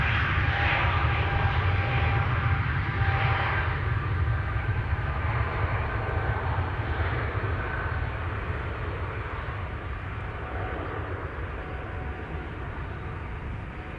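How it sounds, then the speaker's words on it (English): A jet roar fills the air at Amsterdam Schiphol: an SAS Cargo jet turning toward the listener drowns out a nearer Airbus A320neo on its takeoff run. The loud, broadband rumble holds steady and eases slightly toward the end. "It's even overpowering the A320neo taking off, which is closer by."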